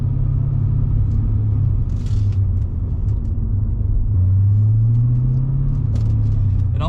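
A 2005 Pontiac GTO's V8 drones steadily and close while driving, a low mechanical rumble with pitch rising and falling through gear changes. A rising engine note is heard near the middle of the clip.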